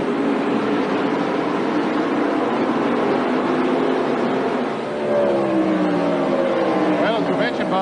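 Stock cars at the 1988 Goody's 500, with Greg Sacks' 88 and Ken Schrader's 25 battling for ninth past 316 laps, roar loudly and continuously in a dense engine wash, with a pitch sweep near the end as a car passes.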